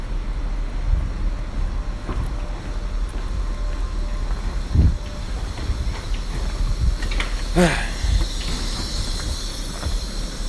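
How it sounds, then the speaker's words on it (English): Inside a moving train, a steady rattling rumble and hiss continue throughout. A brief metallic wheel squeal rises near the end, and no voices are heard. "I want to find a good spot on this damn train."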